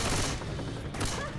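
Rapid gunfire in the video game Left 4 Dead 2, a brief dense burst of shots that is loud and continuous through the whole moment.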